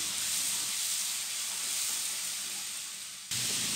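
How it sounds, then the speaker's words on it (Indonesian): Spice paste and chopped onion sizzle steadily in a hot pan, a continuous close frying hiss with no voices, briefly dipping near the end before resuming. "Sekarang aku mulai tumis bumbu-bumbunya ya teman-teman. Ini bumbu halusnya, sekalian langsung bawang bombaynya. Ini kita tumis sampai harum, sampai matang."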